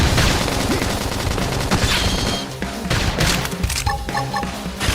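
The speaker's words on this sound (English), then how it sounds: "Flame grenade!" In Xenoblade Chronicles X Definitive Edition, a flame grenade bursts amid dense, loud combat noise: rapid crackling blasts and impacts pile up in a chaotic barrage, then thin out into scattered hits and sharp electronic chimes.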